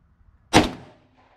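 A single sharp report from an unsuppressed B&T SMG-M-9 firing a 158 grain round, close and loud, with a short decaying tail after a quiet lead-in.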